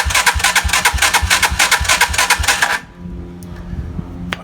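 A car engine with a starter solenoid bridged by a screwdriver cranks loudly in a fast, steady rhythm for nearly three seconds, then cuts off and leaves a low hum.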